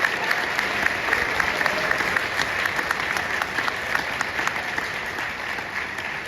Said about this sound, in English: So can we just give a round of applause to Band Boosters for all their efforts?